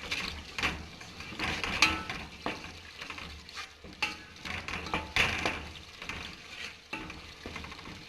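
Spice masala paste fries in oil in a pan for an arbi (taro root) curry, with repeated close scraping strokes of a spoon stirring it over a steady sizzle, the strokes coming in uneven bursts.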